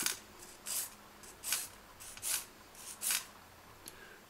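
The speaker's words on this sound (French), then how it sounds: "on va placer la lime à 45 degrés plus ou moins pour ne limer que la partie proche des cuticules" A nail file rasping on UV gel near the cuticles at a shallow angle, six short scratchy strokes in a regular back-and-forth rhythm, close and fairly soft with no talk.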